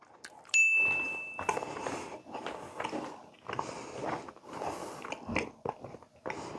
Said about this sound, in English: You really got to chew to get there.